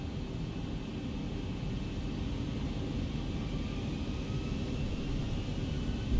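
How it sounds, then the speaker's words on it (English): A Boeing 737 in X-Plane 11 spooling up for its takeoff roll, its engines a steady, broad, low rumbling roar that holds even and unbroken throughout. "We're going to get ready to do our takeoff roll here"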